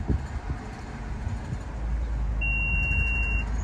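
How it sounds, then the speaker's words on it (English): Renault Scenic E-Tech giving a steady electronic confirmation beep after its tailgate opening height is set, a single sustained tone of about a second heard close over a low background rumble. "that beep is to say that that's now set to this position"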